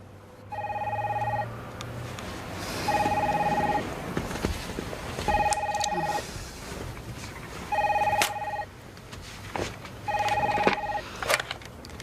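A telephone rings in regular bursts, five double-tone rings spaced about two seconds apart in an office, fairly close and clear, with faint background movement between rings and no talking.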